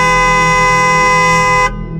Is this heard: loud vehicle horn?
yes